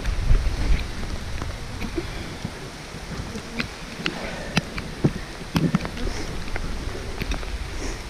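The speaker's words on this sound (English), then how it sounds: "This is a first doing it in the rain." Steady rain falls outdoors during an animal feeding, a dense continuous patter with scattered sharper drops striking nearby surfaces throughout.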